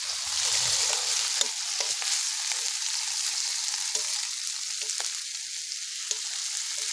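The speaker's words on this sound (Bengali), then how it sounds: "জিরে বাটা দিয়ে দেবো," Cumin paste frying in a pan of chicken kosha, a loud, steady hissing sizzle close by, with a few faint taps of a spoon over it and no voices.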